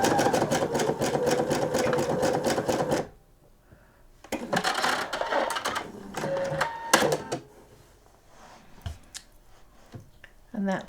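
A sewing machine zigzag-stitches close to the fold along the hem of a nightgown in a steady three-second run, then goes quiet apart from scattered handling clicks and fabric rustles.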